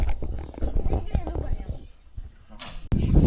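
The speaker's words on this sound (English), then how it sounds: "I am now on top of a horse." A horse's hooves thud unevenly on soft field ground in Kosovo under close talking voices, with rustling and movement throughout.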